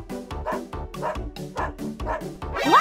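A small dog barks repeatedly in a steady rhythm, about seven close, loud yappy barks with a whiny edge, ending in a higher yelp.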